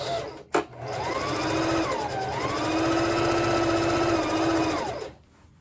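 A sewing machine back-stitching long curtain fabric runs in one continuous loud whirring burst of rapid needle strokes for several seconds, its pitch dipping briefly midway, after a single click at the start, then stopping abruptly.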